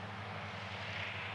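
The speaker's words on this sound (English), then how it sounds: "And there's an airplane flying above me somewhere." A fixed-wing airplane passes somewhere overhead near a model glider competition field, giving a steady, distant engine drone with a low hum throughout, no speech.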